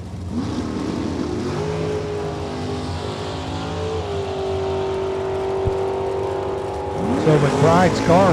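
A drag race car roars steadily at full throttle toward the finish line, loud and sustained with a rising engine tone, and crowd or announcer voices come in near the end.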